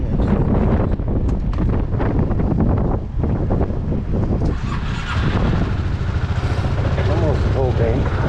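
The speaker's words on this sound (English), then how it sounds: "The wind is wicked." Strong wind gusts buffet the microphone at a gas station beside a Yamaha Majesty 400 scooter, a rough rushing roar under a voice, with a passing vehicle or engine sound toward the end.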